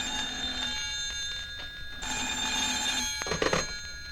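An old-fashioned telephone bell rings steadily at night, a bright sustained metallic trill over a faint background hum, ending with a clatter as the receiver is picked up.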